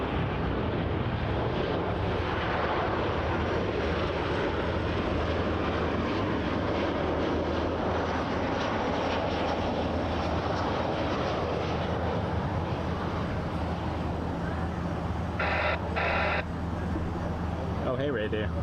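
A Swoop airliner arriving on runway 24L at Toronto Pearson, a steady low engine drone with a faint hum, continuous and moderately distant, and a person speaking over it.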